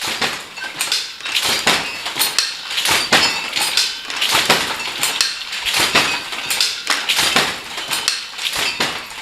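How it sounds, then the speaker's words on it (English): A jacquard loom weaving, clattering in a steady, fast rhythm of sharp clacks and thumps, loud and close, running continuously without any talk. "That's the sound of a jacquard loom weaving,"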